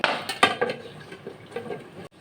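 A metal lid clanks a few times as it goes onto a pot of Sonali chicken cooking on the stove, followed by a soft, steady simmer.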